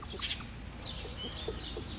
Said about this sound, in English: Oh, that's a rooster.